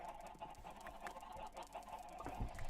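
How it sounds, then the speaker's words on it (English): Chickens cluck in a Minecraft cave, a faint scatter of short clucks and squawks overlapping irregularly at low level with no talking. "let's go back and have a look at how many chickens there are, especially in the chicken caves"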